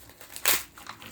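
A 3-gram foil sample packet of iTeaWorld White Peony tea is torn open by hand, giving one sharp crinkling rip amid quieter rustles, close and brief.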